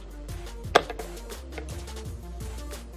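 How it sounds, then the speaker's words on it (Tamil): Several soft knife chops through mushrooms on a cutting board, one sharper thud standing out, with faint background sound between the cuts. "இந்த மாதிரி நறுக்கிக்கோ எல்லா காளானையும் இந்த மாதிரி"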